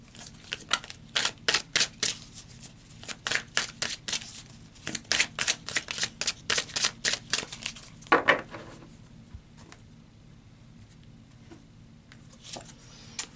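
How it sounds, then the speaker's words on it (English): Tarot cards shuffled and drawn by hand, a quick series of crisp flicking and slapping sounds in bursts, close and fairly quiet, with softer rustles after a pause. "So let's pull another card,"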